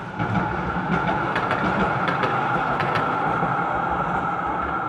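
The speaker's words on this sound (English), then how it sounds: "Let's let the tram go past." A city tram rolls past on the street, a loud, continuous rumble with faint rhythmic clicks from the wheels on the rails, close by and steady throughout.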